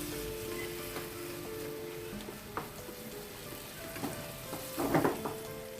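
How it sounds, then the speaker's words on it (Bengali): Fish roe simmering in a pan with added water, a gentle bubbling sizzle with occasional clinks and a louder burst of spluttering near the end, no speech. "এখন আমি এর মধ্যে পরিমাণ মতো পানি দিয়ে রান্না করব, যতক্ষণ না পর্যন্ত মাছের ডিমটা"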